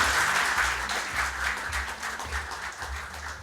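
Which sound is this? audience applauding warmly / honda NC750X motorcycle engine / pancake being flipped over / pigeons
audience applauding warmly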